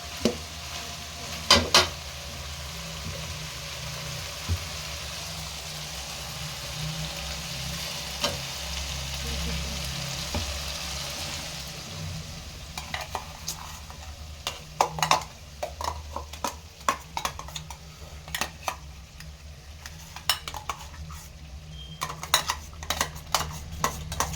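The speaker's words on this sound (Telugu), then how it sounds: "ఆ వాటర్ మొత్తం డ్రై అయ్యేంత వరకు బాగా వేయించుకోవాలి." Chicken curry sizzles steadily in a pan while it fries down. In the second half a spoon scrapes and clinks against the pan in quick irregular strokes, all close and without speech.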